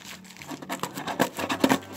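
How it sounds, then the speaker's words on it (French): Gift wrapping paper torn roughly off a package holding a Lenormand card deck, a quick run of close crinkling rips and crumples over about two seconds. "Donc que je vais déchirer de façon grossière comme je fais avec tous les paquets cadeaux."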